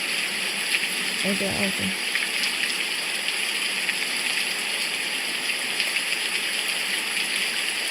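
Steady rain pours down on a very rainy day, a dense, even hiss that holds through the whole stretch, with a short burst of a voice near the start.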